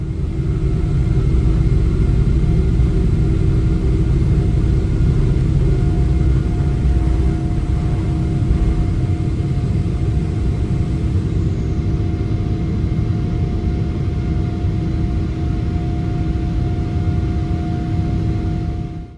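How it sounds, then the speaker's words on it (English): Steady, loud low rumble inside the cabin of a Boeing 777 airliner climbing after takeoff, a continuous broadband engine and air roar with faint steady tones, unbroken and without talk throughout. "Barely 10 minutes after pushback, we took to the skies."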